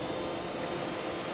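Fishing drone taking off and flying, a steady, close whirring motor drone that holds level and continuous throughout the short stretch, with no talk over it.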